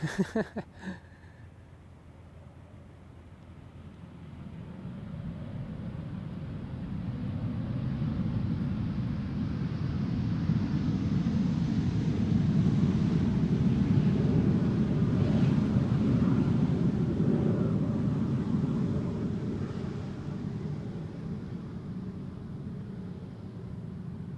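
A KLM airliner arriving at Amsterdam Schiphol Airport on a flight from Panama City: a steady jet roar builds from a low rumble, peaks mid-way and slowly fades, heard from a distance with some wind noise and no talking.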